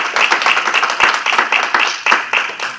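Audience applause at a PDCI party conference in the United States, with a dense patter of many hands clapping close by, rising and falling in waves for about three seconds and no voices on top.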